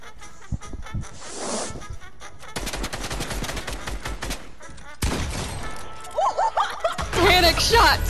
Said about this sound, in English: Panic shots for Dave!